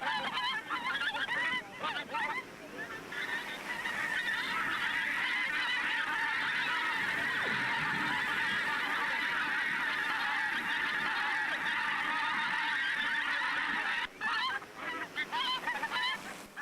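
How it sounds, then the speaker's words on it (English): A large flock of ducks herded into flooded rice paddies, keeping up a dense, continuous honking and quacking chorus for the whole stretch, fairly close and loud, with no speech. "Now that the ducks are in the rice paddies and feasting on the pests"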